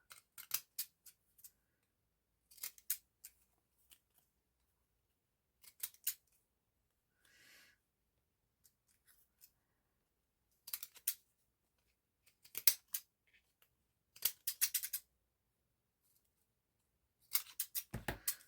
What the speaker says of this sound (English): just going to cut that to get that bit neater.